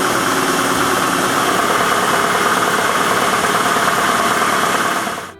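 Large electric motor of a workshop dust extraction system runs in a newly built woodworking shop, a loud steady broadband roar with a constant hum that holds throughout, then cuts off abruptly at the very end.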